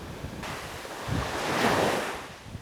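Ocean surf rolls onto a beach, the waves swelling into a broad rushing wash mixed with gusty wind buffeting the microphone, close and fairly loud with no voices.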